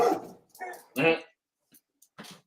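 A dog gives a few short barks and yips up close, with brief pauses between them.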